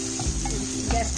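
Capsicum and fried chickpeas being stir-fried for a Chinese-style chickpea dish, with a short burst of spatula scraping over a close, steady sizzle and no talk.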